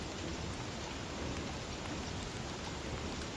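Steady, dense rain hisses evenly in the video game Don't Starve, a soft uniform patter with no voices over it.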